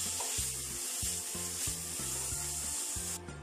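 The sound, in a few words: frying beetroot in a pan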